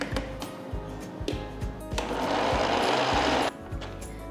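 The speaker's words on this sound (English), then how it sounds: "we're going to grind everything to a nice doughy consistency" A kitchen grinder whirs as leftover rice is ground into chapati dough, running in short bursts with stops between, then one steady, louder grinding stretch before it cuts off.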